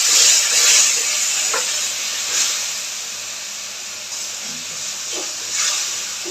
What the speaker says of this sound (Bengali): সামান্য একটু জল দিয়ে একটু জল দিচ্ছি।